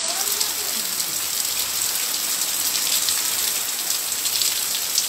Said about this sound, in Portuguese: já faz um bom pedaço que está chovendo, né? E com uma grande intensidade de água.